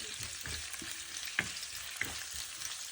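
Onion and chopped curry leaves sauté in a pan under a dense, even sizzle, with two brief metallic clicks of a stirring spoon against the pan.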